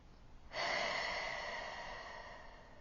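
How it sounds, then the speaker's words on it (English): A single deep inhaled breath begins about half a second in, loud and close, and trails off slowly over the next two seconds with no talking. "So take a deep breath with me."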